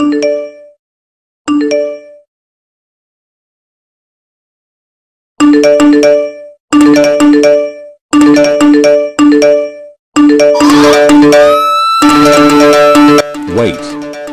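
Video game notification ringtones and chimes: two short ding bursts open the sequence, then after a pause a rapid run of repeated ringtone jingles and tinkling tones, growing denser and busier toward the end.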